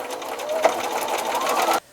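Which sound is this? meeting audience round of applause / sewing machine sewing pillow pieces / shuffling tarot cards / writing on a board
sewing machine sewing pillow pieces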